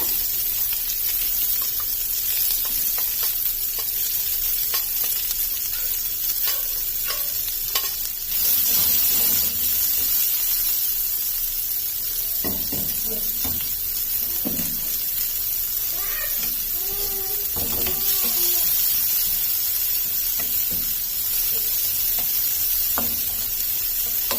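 Chopped large onions and curry leaves sauté in hot oil in a pan for potato poori masala, giving a continuous loud sizzle with occasional stirring scrapes and clinks close by.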